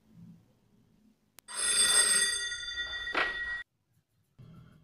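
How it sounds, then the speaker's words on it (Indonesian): A home landline telephone bell rings loudly for about two seconds with a bright metallic trill, then stops abruptly; faint voices murmur before and after. "Tiba-tiba terdengar bunyi telepon rumah."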